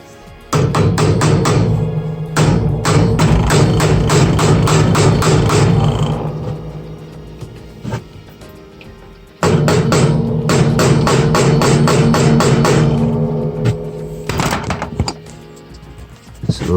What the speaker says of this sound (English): just to hammer the weights on all the way while it's still on the machine